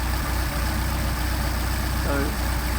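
An engine idles through a German Motorwerks Solex carburetor as the idle is adjusted, a steady, loud low drone with an even pulse throughout and a faint voice briefly in the background.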